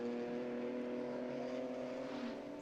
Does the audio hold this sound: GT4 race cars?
yes